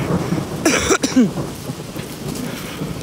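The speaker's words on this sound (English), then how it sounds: "Thunder and lightning." Thunderstorm with rain falling, a loud close rumble of thunder with a sharp crackle early on, followed by a steady wash of rain noise.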